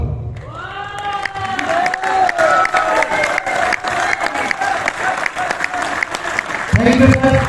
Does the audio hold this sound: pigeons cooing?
no